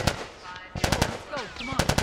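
Automatic gunfire in The Last of Us Remastered, a burst of rapid shots then more repeated bursts, loud and close, mixed with game voices and shouting.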